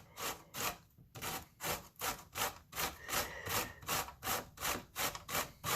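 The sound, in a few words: grating zucchini on a grater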